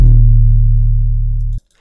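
A deep, booming trap 808 kick with a sharp attack and a long sustained low tone that holds steady before cutting off abruptly.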